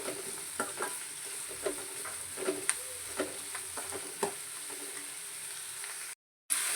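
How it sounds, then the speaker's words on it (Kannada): Chicken gravy masala with chopped green chillies roasting in a pan, with steady sizzling and frying under repeated soft scrapes of a spoon stirring, fairly close, ending in a short silent gap. "ಇದು ಚೆನ್ನಾಗಿ ಸ್ಮೂತ್ ಆಗೋ ತನಕ ಚೆನ್ನಾಗಿ ಥರ ರೋಸ್ಟ್ ಮಾಡಿ"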